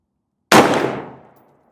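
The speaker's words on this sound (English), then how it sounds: "First shot." A single sharp rifle gunshot from a Sig Sauer Speer LT 556 at an outdoor range, loud and close after silence, with a decaying echo trailing off over about a second.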